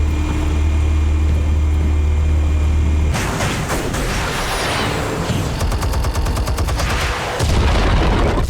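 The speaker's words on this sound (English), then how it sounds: "Explosives armed. Fire when ready." Explosives detonating in a Gotham-set video game, a loud continuous roar of blasts and rumbling debris that shifts into rapid crackling bursts, close and dense throughout.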